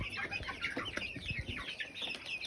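Backyard chickens, including a small white one with fluffy feet, cluck in a run close by, a busy overlapping chatter of short clucks filling the brief moment without any talk.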